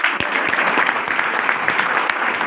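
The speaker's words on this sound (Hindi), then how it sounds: "उनके लिए जबरदस्त ताली होना चाहिए।" Steady audience applause at a business meeting for a direct-selling company, dense even clapping filling the whole stretch at close range with no talk over it.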